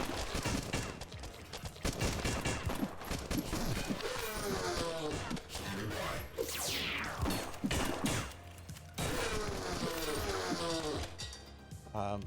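Gun firing in the retro-style shooter Beyond Sunset: continuous rapid shots and impacts, fairly loud, mixed with crashing hits and swishing effects and layered over game music.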